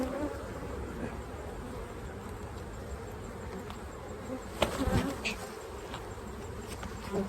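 Honeybees buzzing densely around an opened hive during an inspection, a continuous close droning swarm with a few sharper passes near the ear and a brief knock midway.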